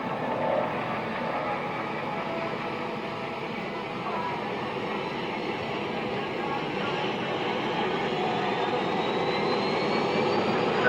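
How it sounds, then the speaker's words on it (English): A de Havilland Caribou twin-engine aircraft's engines power on at an airshow, a broad continuous roar with a faint rising whine, steady and fairly loud from a distance, with an announcer talking over it. "the Caribou will power the engine on"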